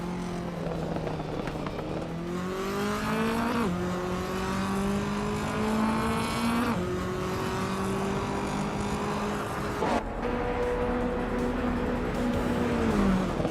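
A 1986 Citroën BX4 TC Group B race car in a racing video game, engine note climbing steadily through the gears with brief drops at upshifts, loud and continuous from start to finish.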